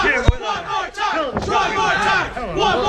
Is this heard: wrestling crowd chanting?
yes